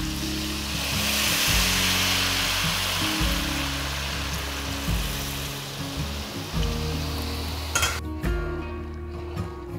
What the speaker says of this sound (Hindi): ये शुगर सिरप ध्यान से डालिएगा, काफी इसमें स्टीम उठेगी